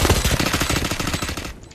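Rapid automatic M4 rifle fire in a video game, a loud continuous burst of closely spaced shots lasting nearly two seconds before cutting off.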